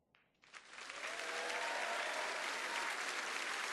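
Applause in The Grand Tour video game swells quickly from a few claps into sustained, loud clapping from a large crowd, continuing steadily without voices.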